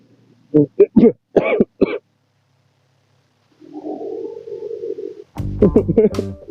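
A short burst of harsh coughs up close, followed by a low droning hum and then a louder rough cough or throat clear, while riding a Kirian Genio motorbike.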